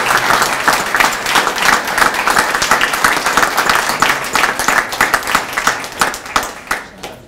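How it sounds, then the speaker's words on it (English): Sustained, loud applause from a large audience at a Schenectady manufacturing week event, dense steady clapping with no voices, thinning slightly toward the end. "a big hand of applause for everybody"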